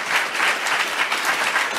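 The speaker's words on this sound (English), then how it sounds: "Let's give her a round of applause." A town hall audience gives a sustained round of applause, a thick even wash of many hands clapping with no break.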